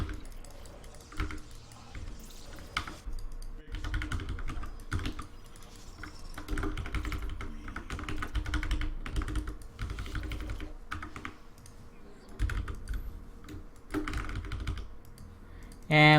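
Keys clatter in steady bursts on a computer keyboard, typed during a StarCraft ranked match, close and continuous under a faint murmur of game sound.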